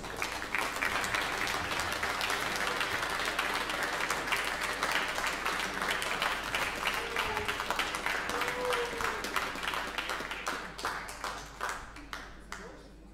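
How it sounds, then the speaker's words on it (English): An audience at a boxing event in a gymnasium applauds a boxer with dense, sustained clapping that tapers off toward the end. "please give him a big round of applause"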